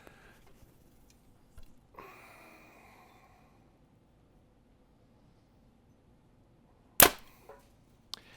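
One sharp, loud thud as a 2022 Hoyt Twin Turbo compound bow is shot, fading quickly after a mostly quiet stretch with faint rustling and a brief softer noise before.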